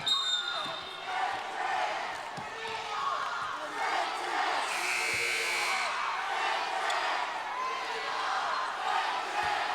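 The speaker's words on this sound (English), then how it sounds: "We are state champs is the cheer from the Summers County fans." Summers County fans fill an arena at a girls' basketball Class AA state championship with loud, continuous crowd chanting and cheering, heard from a distance with a few sharp thumps within the roar.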